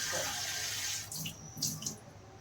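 A steady stream of water, about one and a half cups, pours and splashes into a pan for sugar syrup, then tapers off into a few short splashes and trickles.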